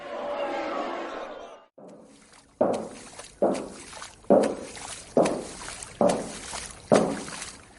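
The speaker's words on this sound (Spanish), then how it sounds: "Son las fuertes pisadas del aguador, uno de sus rasgos más distintivos" Heavy footsteps of a water carrier on a street in old Madrid: about six slow, evenly spaced thudding steps close by, following a short stretch of murmuring voice-like sound at the start.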